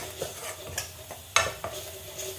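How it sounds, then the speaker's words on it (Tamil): A green peas mixture with sambar powder being sautéed for a peas poriyal, a close, steady sizzle with repeated quick stirring scrapes and light utensil taps against the pan, no talking. "அதை போட்டு நல்லா ஒரு 30 செகண்ட்ஸ் நீங்கள் சாட்டே பண்ணணும்"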